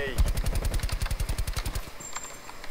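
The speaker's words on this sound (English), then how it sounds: "I don't know what he's shooting at." Rapid automatic gunfire from the video game Call of Duty: Black Ops Cold War rattles in a steady burst for nearly two seconds, close and punchy, then stops.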